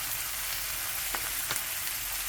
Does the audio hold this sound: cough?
no